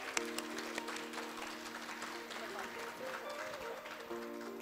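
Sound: audience applause welcoming a speaker

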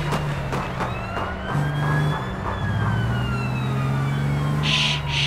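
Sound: police car sirens in video game APB Reloaded

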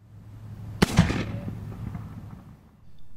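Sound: dog training dummy launcher being shot

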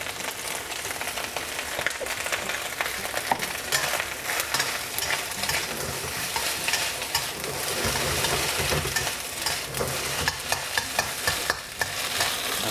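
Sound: stir-frying Chinese sausage in oil in a pan

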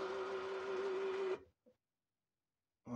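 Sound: electric roller blind motor running

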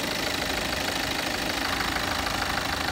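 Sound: BMW 520d twin-turbo engine idling

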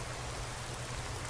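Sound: rain in the video game Skyrim SE

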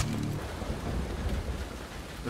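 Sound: rain in London in the video game Splinter Cell: Blacklist

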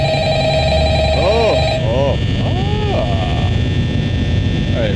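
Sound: telephone ringing in video game Five Nights at Freddy's

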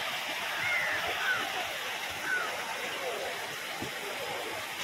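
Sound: Vadattupara waterfall, flowing water

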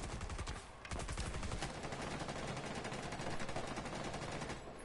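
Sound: gunfire from a gun in a PS4 video game

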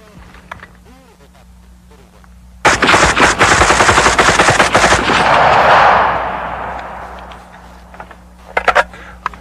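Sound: machine gun firing 20 rounds at five targets

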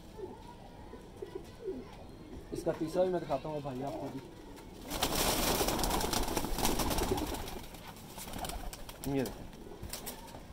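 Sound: Teddy breed pigeons cooing

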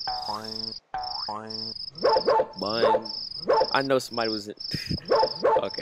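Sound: dog barking in a video game

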